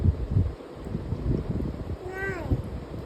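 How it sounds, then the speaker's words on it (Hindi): A cat gives one clear, rising-then-falling meow partway through, set against a muffled, rumbling background. "C for cat का है? बिल्ली का है?"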